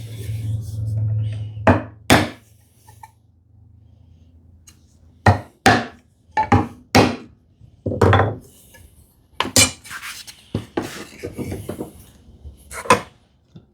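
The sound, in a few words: chopping wood with a chisel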